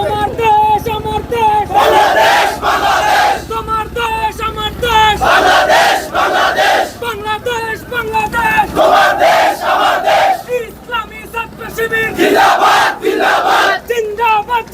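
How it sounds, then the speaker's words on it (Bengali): A large student crowd at a Jagannath University boat rally on the Buriganga chants slogans in loud, rhythmic bursts, with a leading voice calling and many voices answering in repeated waves. "সেই অদম্য জবিয়ানের নামে স্লোগান দিচ্ছে"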